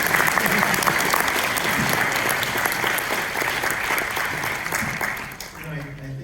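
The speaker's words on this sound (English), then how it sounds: "So an applause." Audience applause after a film Q&A tribute to the crew, a dense sustained clapping from a large crowd that runs loud and steady for about five seconds before thinning out at the end.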